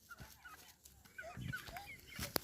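A chicken gives short, scattered clucks and calls at low volume, with faint background noise and brief rustling, no clear talk.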